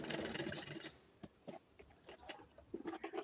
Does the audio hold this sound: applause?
no